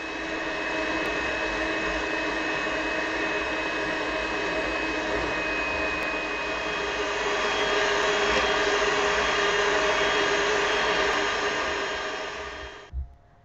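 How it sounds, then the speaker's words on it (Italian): An electric mixer fitted with a whisk beats packaged cupcake icing mix into 250 ml of milk at top speed. It gives a loud, steady motor whine with a harsh, airy edge that runs unbroken for about thirteen seconds, then cuts off. "Un minuto a velocità media col frustino e altri 2 minuti a velocità massima."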